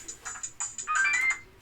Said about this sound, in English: Hold on, this phone's ringing.